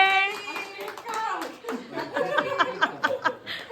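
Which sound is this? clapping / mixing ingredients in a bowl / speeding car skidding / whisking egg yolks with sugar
clapping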